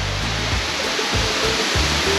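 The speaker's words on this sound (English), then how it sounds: "You know I'm a sucker for a good waterfall. This is so beautiful." A waterfall roars as a steady, loud broadband rush, with a faint low engine-like drone underneath.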